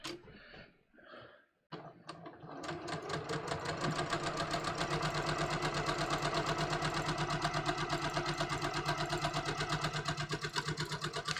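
A sewing machine stitches a welt pocket, starting after a brief pause and settling into a fast, steady mechanical whir with rhythmic needle clatter, close and continuous.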